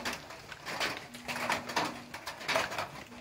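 Flock of two-and-a-half-month-old green pheasants at a breeding farm, giving repeated soft cooing and chattering calls with a low steady hum underneath, moderately close.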